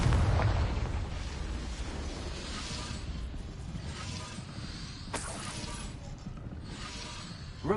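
Confringo fire-blast spell in the game Hogwarts Legacy, a rumbling explosive burst that rolls on with crackling debris and a sharp second blast near the end, loud and alone with no talk.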